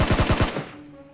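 A SCAR rifle fires in PUBG Mobile, sending four or five rapid, loud, punchy shots in a quick even burst. A short ringing tail fades out afterward, with no talking.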